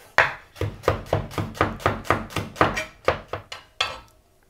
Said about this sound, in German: Und die hacken wir einfach auch grob.